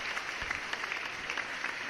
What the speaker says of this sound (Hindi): ज़रा हाथ ऊपर करके जोरदार तालियां बजाकर उनका अभिनंदन करें